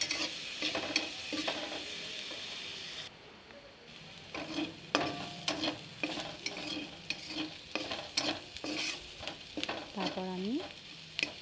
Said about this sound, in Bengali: এটাকে আমি বাদামি রঙ করে সুন্দরভাবে ভেজে নেব